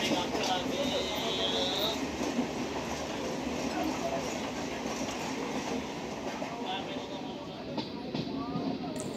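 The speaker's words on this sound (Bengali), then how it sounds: "এই ট্রেনটি শিয়ালদাহ শান্তিপুর লোকাল।" A Sealdah-Shantipur local electric train rumbles past on the line, a steady rolling roar with wheel noise and brief high squeals, fairly distant and continuous, with voices talking over it.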